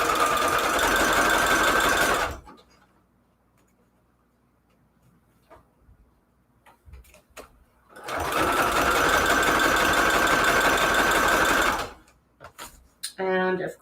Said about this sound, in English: I'm going to sew it all together.